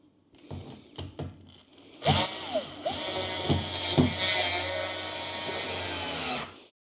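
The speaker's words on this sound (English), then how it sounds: "we'll just pop some screws in as well" A power driver running screws into a Fiat Ducato van build, a few short bursts and then one long whirring run that stops abruptly, with light knocks at the start.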